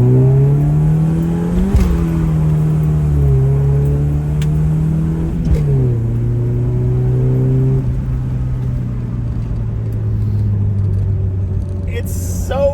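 A 1981 Dodge Challenger with a fresh tune-up, bumped timing and emissions parts removed, revs loud and close, its engine note rising and falling in several blips before settling into a steady idle.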